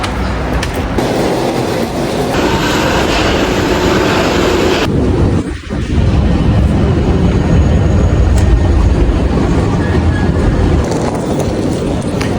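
Early-morning station ambience at Gare du Nord in Paris: a loud, steady rumble of rail traffic and echoing hall noise fills the whole stretch. A brief dip comes near the middle, and there is no talk.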